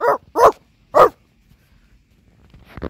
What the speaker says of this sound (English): Looks like a dog.